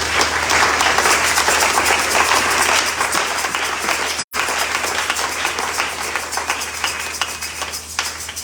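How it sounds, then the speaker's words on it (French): A church congregation applauds and cheers to acclaim the Lord, dense, loud clapping filling the room continuously, broken only by a momentary cut partway through. "Est-ce que tu peux acclamer le Seigneur?"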